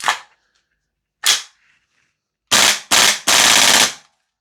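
A VFC G36C V2 gas blowback airsoft rifle (Umarex) firing indoors: two loud single shots with sharp snappy reports, then three rapid close bursts in quick succession, the last the longest, with no talking.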